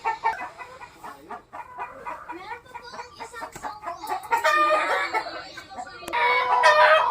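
Gamefowl chickens at a small backyard farm cluck steadily nearby, with roosters crowing loudly toward the end, layered and overlapping.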